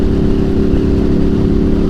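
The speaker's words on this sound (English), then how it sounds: "the amount of just purring and growl that this bike has now because of the SC project is insane" Ducati Monster motorcycle with an SC Project aftermarket exhaust, holding a steady low engine rumble and growl, loud and close, with no voices over it.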